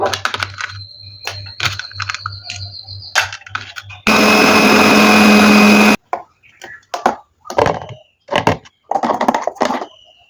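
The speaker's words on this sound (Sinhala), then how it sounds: "මේ සේරම දැන් බෙන්ඩර් ජායකට දාලා බෙන්ඩර් කරගන්න තියෙන්නේ" A blender roars loudly for about two seconds blending bael fruit juice with water and ice, surrounded by clattering knocks and scraping of ingredients being added before and after.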